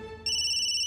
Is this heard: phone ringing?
yes